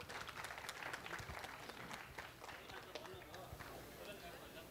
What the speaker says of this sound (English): Can we have a huge round of applause for director,